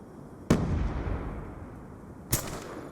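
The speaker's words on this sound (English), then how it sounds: "Gonna throw a grenade here." Two sharp grenade blasts in a Call of Duty match, each a sudden loud crack followed by a rumbling decay, spaced about two seconds apart over steady background game noise, with no voices.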